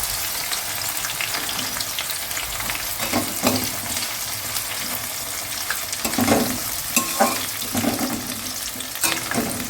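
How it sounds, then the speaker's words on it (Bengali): Onions fry in oil in a pot for chicken biryani, a steady crackling sizzle with intermittent louder bursts of stirring and scraping, close and without speech. "পেঁয়াজগুলো একটু লাল লাল করে ভেজে নিতে হবে"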